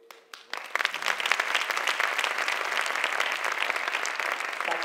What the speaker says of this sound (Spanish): os voy a pedir un fuerte aplauso aquí para la formación